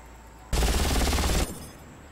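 A single sustained burst of machine gun fire from Far Cry, loud and close, a rapid rattle lasting about a second before cutting off into a fading echo.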